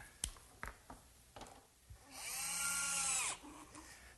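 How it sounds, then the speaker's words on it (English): An electric jigsaw cuts a slot in a wooden workbench top, giving a loud sustained buzzing cut of about a second and a half, preceded by several sharp knocks and clunks of handling. "my electric jigsaw sure makes quick work of finishing up that slot"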